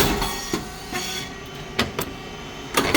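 A SYP9002 rice cake machine runs with its three-phase motor, pump, oil tank and fan, producing a steady broadband mechanical roar. Sharp clanks punctuate it at irregular intervals, and no one speaks.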